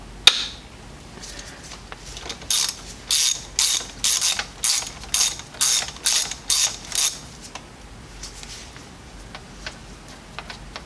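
A socket ratchet clicks in about ten rhythmic, even bursts while loosening the oil filter on a BMW Z3 M with an S52 engine, close and crisp over a quiet background.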